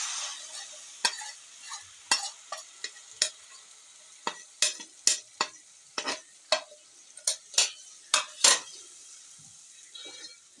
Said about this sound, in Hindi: अब इसके अंदर मसाला शामिल कर दूंगी।